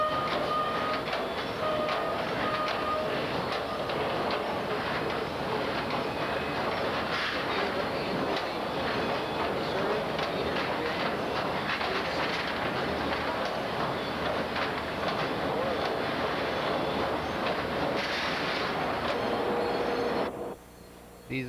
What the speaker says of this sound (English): This is the drag conveyor on top of the metering bins